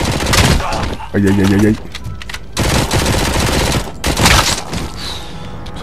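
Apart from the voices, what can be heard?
machine gun fire in video game Robocop: Rogue City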